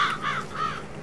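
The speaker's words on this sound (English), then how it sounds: "crows. Bah, bah, bah." Crows in the video game Farming Simulator 22 giving a few quick caws in a row, short and fairly close over faint background.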